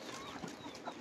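Hens cluck on a small farm flock kept alongside roosters, a close, continuous chatter of overlapping clucks with no talking.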